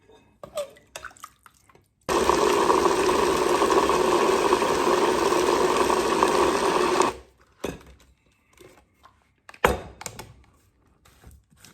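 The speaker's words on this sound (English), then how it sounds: "And keep blending." A blender attachment whirs through soaked fruits for a black cake, a loud, steady, close drone lasting about five seconds, with brief clunks and handling knocks before and after.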